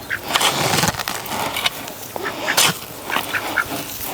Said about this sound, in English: The fence is officially done, which means the last thing we have to do is a test to see if the ducks can get in. Here they come.